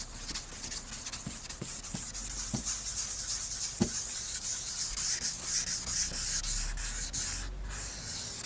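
Car headlight lens being hand sanded during a restoration, a soft rhythmic rubbing scrape repeated back and forth close up with a few faint knocks, quiet and without talk.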